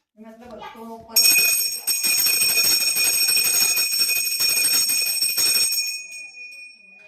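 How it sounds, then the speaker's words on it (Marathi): A small hand puja bell rings continuously and brightly for several seconds during a Gudi Padwa offering after a voice briefly speaks, then fades out. "त्यानंतर घंटी वाजवणार"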